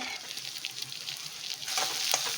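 Small-cut capsicum fries in a pan for shavige uppittu, a soft continuous hiss and crackle up close that swells louder toward the end, with no voices.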